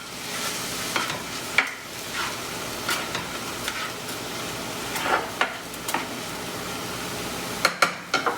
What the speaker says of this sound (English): Now, give that a good stir. You want to mix those seasonings around.